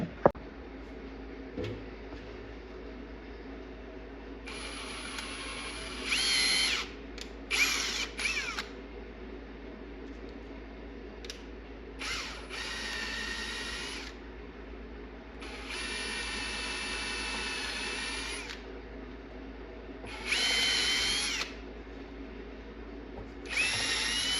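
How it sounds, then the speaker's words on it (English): A handheld power drill whirs in several short bursts of a few seconds each, drilling out holes in arcade cabinet parts, separated by quieter pauses with faint clicks and handling noise. "I'm gonna have to get my hand drill and just kind of drill them out a little bit more"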